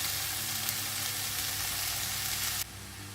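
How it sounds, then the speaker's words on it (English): Vegetables sizzle in a hot pan for a pasta bake, a steady close crackling hiss that drops abruptly in level near the end, with no talking. "Okay, some vegetables sizzling away, ready to all whack together into a bake."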